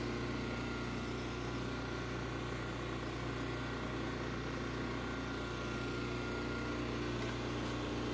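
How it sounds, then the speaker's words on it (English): A home generator runs during a power outage, giving a steady, continuous engine drone with a constant hum and no change in pitch or level, heard alone. "That's the sound of my house running on a generator."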